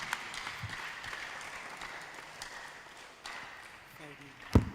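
An audience at a church young professionals' forum in Abuja gives a dense, steady round of applause throughout, while an announcer's voice carries over it and a sharper knock lands near the end.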